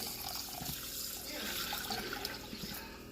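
Four cups of water are poured into an electric pressure cooker with rice, a steady close gushing splash that runs for a few seconds.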